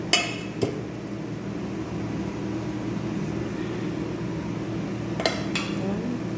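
Metal cookware clanks against a pressure cooker as a pot is arranged, with a sharp clatter at the start, another knock shortly after and a pair of clinks near the end over a quiet kitchen background hum.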